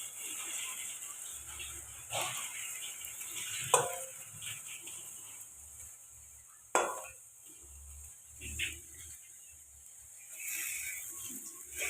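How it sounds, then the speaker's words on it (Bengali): Beaten egg frying in a pan: a quiet, continuous sizzle runs throughout, punctuated by a handful of sharp metallic scrapes and clinks as a utensil stirs it, with no voices. "এটা ডিমটা ভাজা হতে থাক।"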